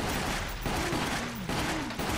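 Sustained rapid gunfire from Resident Evil: The Umbrella Chronicles, a dense, loud barrage with no pauses, under faint voices.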